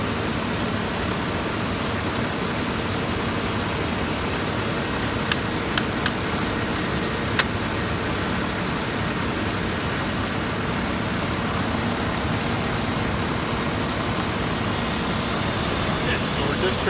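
A fire engine's pump runs steadily as water is charged into the lines, a constant low mechanical drone with a few faint clicks, under someone talking.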